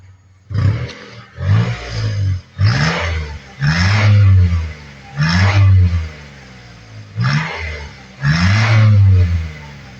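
Four-cylinder car engine revved repeatedly in bursts, each a loud rising roar that drops back to a rough idle, about seven revs in ten seconds, close by with no talk.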